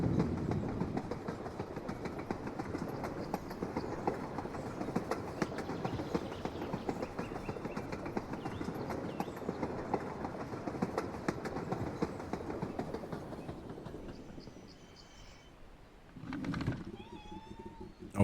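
Train sounds from the indie video game Short Trip rumble and clatter steadily for most of the span at moderate level, then fade out, leaving a few brief chimes and soft tones near the end.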